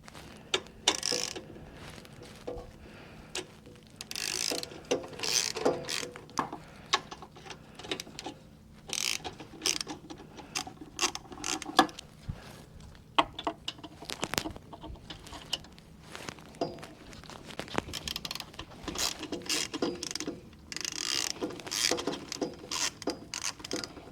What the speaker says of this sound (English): there's just basically 4 bolts for it, and we'll be using a Torx 30 to get it off the top of the winch